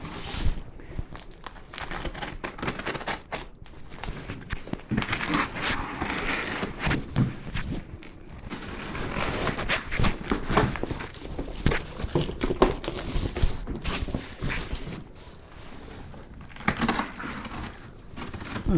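Cardboard and plastic packaging around a delivered parcel is crushed, torn and crinkled by hand, a close, continuous run of rustles and crunches with brief lulls.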